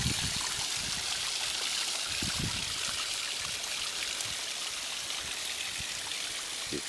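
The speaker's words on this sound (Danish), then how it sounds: "Så har vi vandfaldet her." A small garden waterfall feeding a fish pond, set among big stones and a Chinese tree, splashes and trickles steadily at close range, with a constant hiss of falling water and faint gurgles, and no voices.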